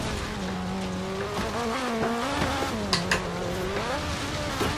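A car in Forza Horizon 3 revs through its gears, the engine pitch climbing and dropping in steady shifts, with brief tire squeals near the end and a constant mid-level drone throughout.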